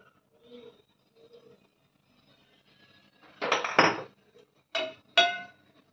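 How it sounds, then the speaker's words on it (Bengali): Three spoonfuls of mustard oil go into a pan on a gas stove, heard as a few sharp metallic clinks and scrapes of a spoon against the pan, close and fairly loud after a quiet start. "এবার 3 চামচ সর্ষের তেল দিচ্ছি"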